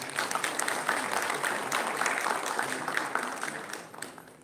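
A live university event audience applauds a newly introduced HR and talent acquisition panelist, a moderate, continuous patter of many hands that swells early and gradually tapers off.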